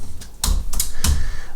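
Several quick keystrokes on a computer keyboard during a coding session, sharp clicks in uneven bursts, close and fairly loud with no voices.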